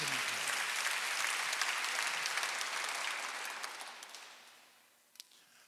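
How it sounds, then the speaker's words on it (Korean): A church congregation applauding during a Sunday worship service, a dense sustained clapping that holds steady for several seconds before fading out, followed by one faint tap. "박수 하나 더 있어요."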